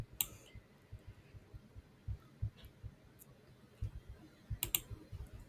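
Soft, quiet clicks of a computer mouse come in irregular bursts while a table column is edited, some close together and others spaced out, with no voice.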